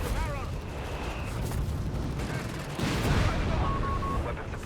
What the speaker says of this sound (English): Got artillery calling around, trying to just disrupt the German assault.